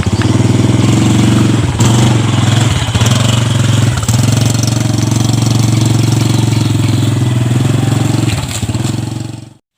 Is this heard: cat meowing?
no